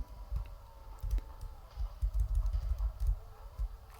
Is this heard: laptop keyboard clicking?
yes